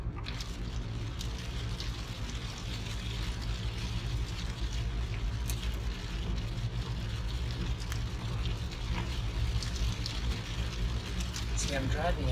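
A steady low road rumble from a car driving in the rain fills the clip, with a faint wet hiss and occasional light ticks, under someone talking.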